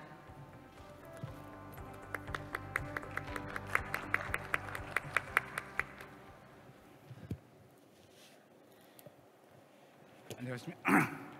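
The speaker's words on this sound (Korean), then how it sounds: "따뜻한 박수로 모시겠습니다" Warm audience applause welcoming a presenter at a Seoul tourism briefing during a travel mart, moderately quiet clapping that fades after about six seconds, with a few later sounds and a brief vocal burst near the end.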